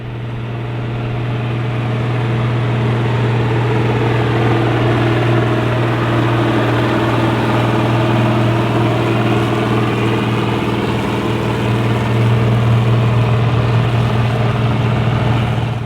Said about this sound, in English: let's head out to the field so that you can see and hear this Red Power machinery hard at work